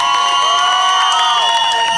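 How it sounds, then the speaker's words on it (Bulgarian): Crowd at a motorcycle rally in Balchik cheering and applauding: dense, loud, sustained shouting and whistling from many people, continuous for the whole stretch. "Аплодисменти за първите, за да оценим."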